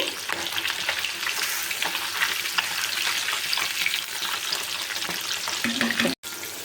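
Fish coated in masala frying in a pan, a dense, steady sizzle with occasional stirring, loud and close throughout with a brief cut near the end.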